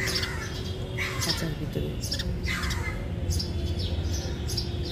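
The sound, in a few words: house sparrow chicks calling in their nest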